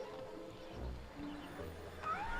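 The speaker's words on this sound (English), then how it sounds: "And make those cats shut up" Cats meow in a drawn-out, wavering way, faint and somewhat distant against a steady background hum, with a brief sharper cry near the end.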